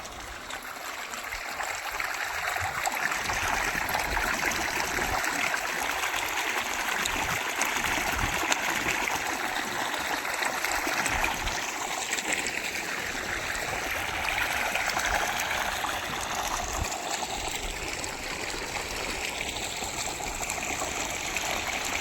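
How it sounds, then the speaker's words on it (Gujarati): Water from a running motor pump pours steadily into a small tank on a farm, a continuous rushing, gushing flow that stays loud and even throughout, with no talking. "હોદમાં પાણી કેમ જાય છે કુંડીમાં."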